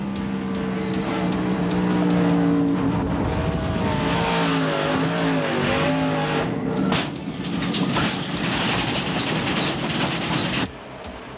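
Race cars at an ARCA race in Atlanta roar past in a continuous loud engine drone with rising and falling pitch, then the sound drops abruptly near the end.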